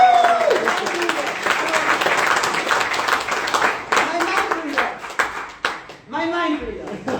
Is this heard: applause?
yes